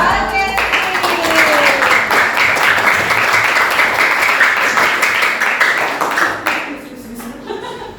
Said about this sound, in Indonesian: Terus tepuk tangannya, ya.